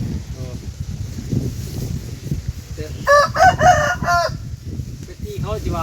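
A fighting cock crows in a loud, drawn-out call near the middle, then begins another, over a steady hiss of rain and faint farmyard background, with a person talking quietly in Thai nearby.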